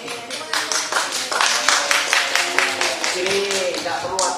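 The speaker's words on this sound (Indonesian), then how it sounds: "Ini nggak perlu ada tepuk tangan" Applause in a courtroom during a first hearing, a steady burst of many hands clapping throughout, with people talking over it.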